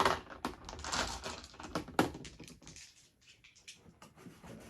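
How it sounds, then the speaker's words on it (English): Plastic dice clatter and click as they are lifted off markers on a World War II naval board game, a quick run of small rattling taps up close that thins out toward the end. "I've got all my dice on my markers. Give me a second as I take those off."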